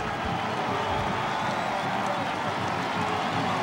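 A wind-chilled football stadium crowd at Durham, during a 1999 N C State at Duke game, cheering steadily: a loud, continuous roar of many voices filling the whole stretch without a break.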